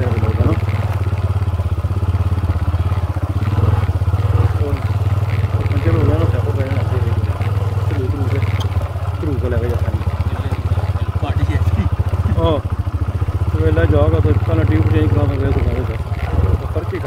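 A motorcycle ridden at night across Naala Ghaan gives a steady, close engine drone that runs the whole way under continuous talking.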